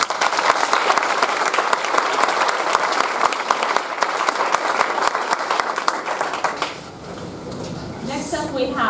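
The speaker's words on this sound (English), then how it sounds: "We're going to give you a round of applause as a send-off to your big competition." A meeting audience claps steadily in a loud, dense round of applause for a send-off, which tapers away near the end as a few voices and light clatter follow.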